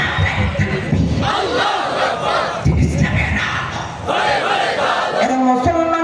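A large crowd at an outdoor Islamic religious gathering roars back in unison to the Nara-e-Takbir call, loud massed chanting in repeated surges with a lead voice amplified over the top.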